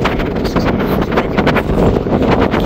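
Loud, steady wind on the mountain top at Glacier 3000, Switzerland, buffets the microphone in a continuous roaring rush, with no voices present.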